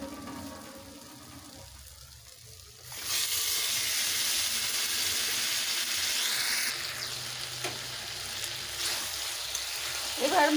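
Duck meat dropped into a pan of fried spices for duck curry, setting off a sudden loud, steady sizzle that carries on to the end, with faint clinks of stirring.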